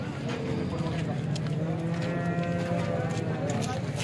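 Cows lowing at a busy cattle market in Alephata, a long sustained moo over constant crowd murmur and people talking nearby.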